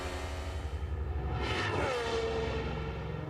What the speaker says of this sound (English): That is the sound of a turbocharged engine of Pierre Gasly.